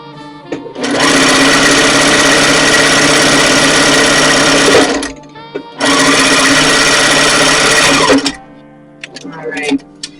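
Sewing machine stitching fabric with raw edges lined up, running in two long loud bursts of steady whirring with a pause between, then stopping; faint handling noises follow.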